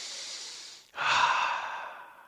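Deep breathing while inhaling lavender essential oil dabbed on the temple: a close, airy breath that trails off, a short pause, then a second long, loud breath that slowly fades, with no talking.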